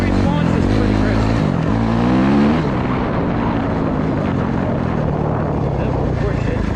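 A 2023 Suzuki RMZ250 dirt bike engine revs loudly and continuously during a close riding pass, its pitch climbing then holding a steady buzzing drone under heavy wind rush.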